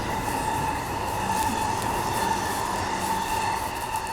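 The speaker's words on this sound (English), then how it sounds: "The train is passing." A JR commuter train bound for Tokyo rumbles past at a steady distance, a continuous broad roar with a faint tonal hum, with no voices over it.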